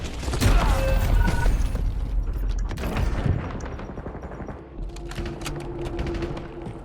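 Video game gunfire sounds in dense bursts of rapid shots, loud at first and then thinning into scattered distant pops and clicks of mechanisms.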